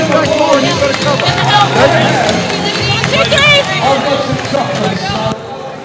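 A small but vocal crowd cheers at a WNBL basketball game between Perth Lynx and Bendigo Spirit, a loud steady roar with squeaking shoes and court bustle, while a commentator talks over it.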